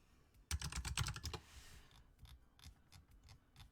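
A quick burst of computer keyboard typing, dense rapid keystrokes for about a second, then scattered lighter taps trailing off, close and fairly quiet.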